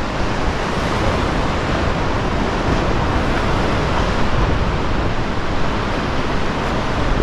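Ocean waves and surf off Nusa Penida, Bali, a steady broadband wash that stays loud and continuous throughout, with wind buffeting the microphone and no voices.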